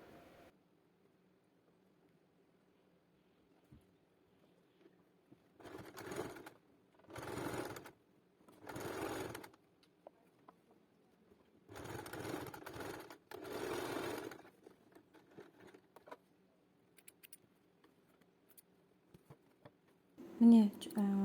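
A sewing machine stitching a zigzag seam to join the corners of an Uzbek skullcap, running in several short bursts separated by pauses, soft and close.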